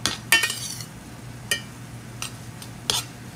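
A utensil stirs and mixes rice with tuna in a pan, giving a few sharp scrapes and clinks spaced apart over a faint low hum, close by with no talking.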